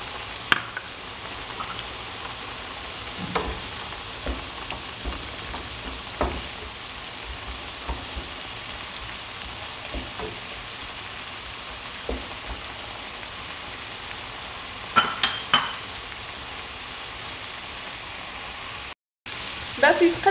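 Peppers and olives frying in oil in a tagine, a steady close sizzle with occasional clicks and stirring taps over about twenty seconds.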